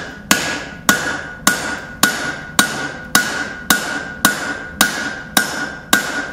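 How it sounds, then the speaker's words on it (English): Hand forging with a straight peen hammer: eleven evenly spaced, sharp metallic strikes on hot metal over an anvil, each with a short ringing decay, loud and close in a steady rhythm. "Another way is a peen type hammer. This is a straight peen."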